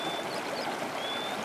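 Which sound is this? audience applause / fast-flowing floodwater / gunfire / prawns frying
fast-flowing floodwater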